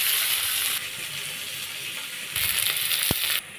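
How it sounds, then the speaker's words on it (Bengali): Chopped onions and whole cumin seeds fry in leftover fish-frying oil, giving a continuous hiss and crackle that swells loud, eases, then surges again, with a brief clink of a utensil near the end. "পেঁয়াজটা ভাজা ভাজা হয়ে এসেছে"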